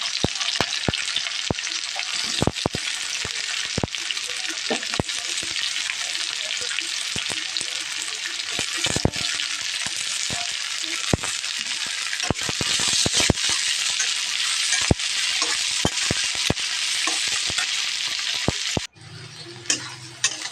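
Onions sizzling loudly in a pan, a dense steady fry punctuated by frequent sharp clicks and scrapes of a spatula stirring, ending abruptly in quieter room sound.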